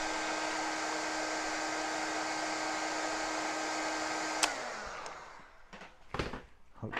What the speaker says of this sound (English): It really works well, that hot air gun.